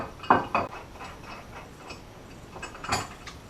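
Metallic clicks and clanks as bolts are tightened on a Minn Kota Talon mount, a few sharp close taps early and late with quieter ratcheting in between, no talking.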